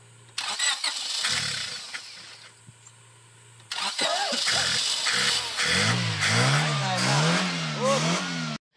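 A Honda Civic ESi carburetor engine cranks briefly, stalls, then cranks again and catches, running and revving unevenly up and down close by.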